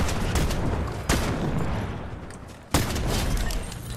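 Booming shotgun blasts in the Fortnite video game, two sharp loud shots roughly a second and a half apart, each with a long rumbling tail that sits over steady in-game noise.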